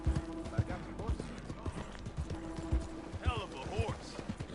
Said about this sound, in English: I got the horse.